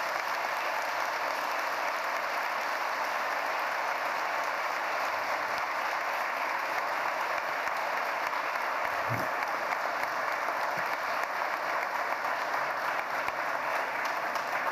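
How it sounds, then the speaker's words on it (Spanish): Audience applause at a cybersecurity forum panel, a steady dense clapping that holds evenly at moderate loudness for the whole stretch, with no talk over it. "les suplicamos de la manera más atenta un aplauso para nuestros panelistas"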